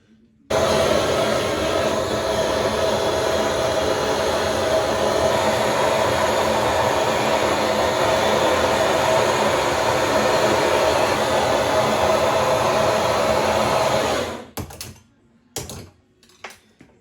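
Gas torch roaring steadily and loudly for about fourteen seconds while heating silver to solder a base onto a piece of church silverware, then cutting off abruptly, leaving a few faint clicks.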